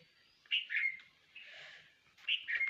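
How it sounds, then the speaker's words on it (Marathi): Birds sheltering in a neem tree on a cold day, giving bright, clear chirps and short whistled calls in two quick bursts separated by a softer call, close and distinct in otherwise quiet surroundings. "या साईडला लिंबिनीवर बघू शकता पक्षी आलेत निवाऱ्यासाठी"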